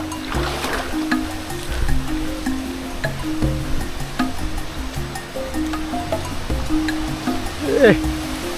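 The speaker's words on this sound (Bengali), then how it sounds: "ঝর্ণার পানির প্রেশারের যে কী শব্দ সেটা হয়তো এখনই আজ করতে পারতেছেন" A jungle waterfall in the hills of Alikadam, Bandarban, pours with strong water pressure. Broadband rushing and splashing noise runs steadily throughout, with footsteps and low background noises mixed in.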